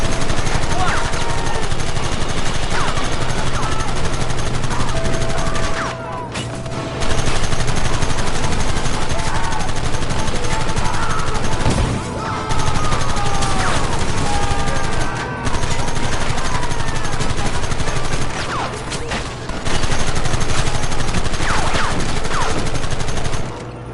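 Relentless, loud gunfire from a western-era battle in Red Dead Redemption, rapid overlapping shots rattling almost without pause, with brief dips between bursts.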